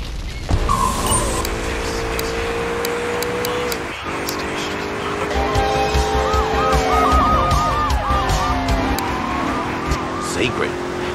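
Car driving in the video game GTA III around Liberty City, a steady engine drone with tyre skids and a wailing police siren rising midway, under talking voices.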